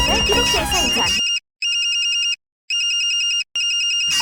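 A phone ringtone plays in repeated bursts with short gaps, loud and close, right after a moment of voices talking.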